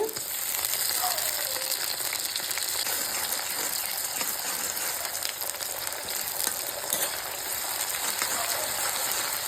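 Onion and ginger-garlic paste frying in hot oil in a kadai for chicken gravy: a steady, close, dense sizzling hiss that holds evenly throughout, with no talking.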